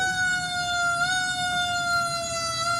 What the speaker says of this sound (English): Hold on, let's let this service vehicle go by.